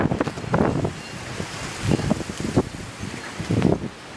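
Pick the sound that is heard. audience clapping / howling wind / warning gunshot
howling wind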